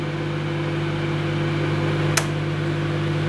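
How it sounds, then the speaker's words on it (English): Microwave oven running while melting butter on a plate, a steady, close, droning hum with a brief sharp click near the end, alone. "So you put the butters into the microwave,"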